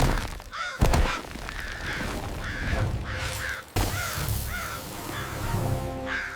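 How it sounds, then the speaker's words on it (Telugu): Crows caw repeatedly as a sound effect in an animal story. Harsh calls come one after another in an uneven rhythm, with a couple of dull thumps between them. "కాకులు వచ్చి చీమల గూళ్లను కొరికాయి"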